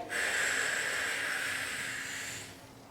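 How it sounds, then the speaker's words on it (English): A forceful, steady exhale during a deadbug core exercise, one long hissing breath out lasting over two seconds, close and clear with no talking. "as I start to breathe out"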